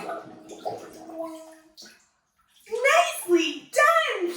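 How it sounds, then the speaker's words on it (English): Child blowing bubbles into a cupped hand held in water during a baby swim lesson, with soft splashing and a brief bubbling burst, then an adult's voice talking over it. "We're gonna make bubbles right into our hand."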